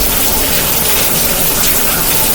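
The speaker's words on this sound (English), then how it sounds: "which is why it's raining" Steady rain pours down in a dense, even wash of noise, loud and close with no pauses, and no voices heard over it.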